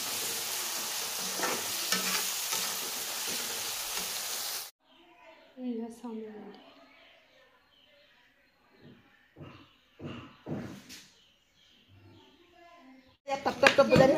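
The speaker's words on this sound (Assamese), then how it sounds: "এইখিনি ফ্ৰাই কৰি লৈছোঁ" Chowmein noodles frying and being stirred in a pan, a steady sizzle for the first few seconds, then quieter scattered clatters and scrapes, with a burst of sizzling again at the end.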